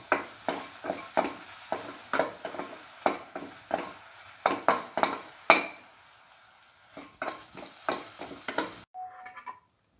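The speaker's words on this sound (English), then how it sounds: "Mix thoroughly. Thoroughly mix." Ingredients for a watermelon yogurt bowl stirred in a bowl, a fast run of clinking spoon-against-bowl taps and scrapes in uneven bursts, close and clear, pausing briefly before resuming, with no talk.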